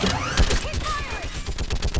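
Battle gunfire in Mass Effect 3: bursts of rapid shots crackle under shouted voices and whistling, sweeping weapon effects, dense and loud throughout with a heavy impact near the start.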